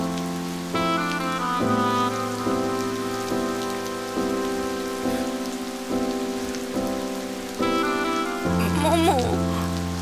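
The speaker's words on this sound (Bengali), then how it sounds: "বৃষ্টি পড়ছে।" Steady rain falls continuously throughout, mixed under sustained tonal background music with no pauses.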